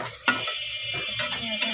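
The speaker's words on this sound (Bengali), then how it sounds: "এখন সবগুলো একসাথে মিক্স করব।" Cauliflower, potato, tomato and egg curry stirred in a pan, giving a few scraping knocks of a spoon against metal with a faint sizzle beneath, close and fairly quiet with no voices.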